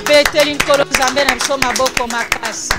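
Sharp rhythmic claps ring out through a church congregation's morning prayer gathering, keeping a steady beat beneath a singing and speaking voice that carries over the top.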